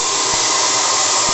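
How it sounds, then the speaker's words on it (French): The gas burner of a live-steam model boat boiler roars back to life at full blast, a loud, steady broadband rushing like a blowtorch, continuous throughout with no voices. "Vous l'avez entendu, le brûleur est reparti."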